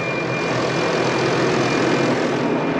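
A tractor runs with its PTO engaged, a loud, steady, unbroken engine drone heard from close by.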